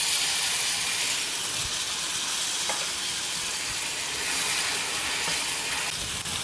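Tomatoes hit a pan of frying onions for a ginger gravy, setting off a steady, close sizzle with soft stirring scrapes that holds throughout with no pauses.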